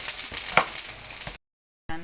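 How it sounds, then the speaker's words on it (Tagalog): Eggplant frying in a pan, a steady broadband sizzle with a brief louder crackle, cutting to silence before a short burst of different sound. "Piniprito ko na yung talong."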